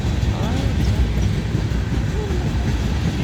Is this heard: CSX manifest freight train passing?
yes